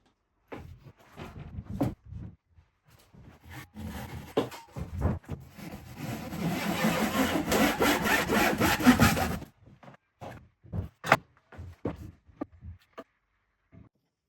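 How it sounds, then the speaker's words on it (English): Hand saw cutting through a wooden support beam for floorboards in an old house, scattered strokes at first, then a sustained run of fast rasping strokes up close, followed by a few more separate cuts. "First of all, I'll cut it here, start chiseling away, make it a space so it can slot in"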